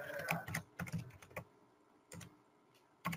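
Short bursts of keystrokes on a computer keyboard as a command is typed into a terminal, clustered clicks separated by brief pauses, close and fairly quiet.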